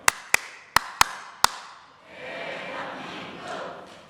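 Several sharp claps from one leader, about five, in a quick uneven rhythm, followed by a broad, fairly weak chant of "Dae-han-min-guk" from a church congregation at a Sunday service, the massed voices sustained for about two seconds.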